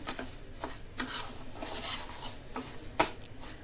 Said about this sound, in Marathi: आता हे बारीक गॅसवर आपल्याला आवळा आणि साखर मिक्स करून घ्यायचं आहे व्यवस्थित हलवून घेऊया